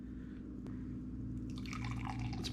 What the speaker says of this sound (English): Let's pour it up.